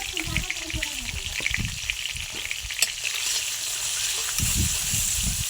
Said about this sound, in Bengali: এইবার দিয়ে দেব চিংড়ি মাছ লবণ হলুদ